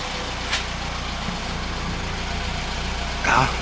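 A Ford Fiesta 1.1 with a Fox stainless steel exhaust idling while warming up, a steady low rumble close by, with a couple of brief louder sounds over it.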